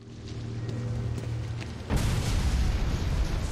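Explosion in Batman: Arkham City, a sudden broad roaring burst about halfway through that stays loud and rumbling after a steady low hum.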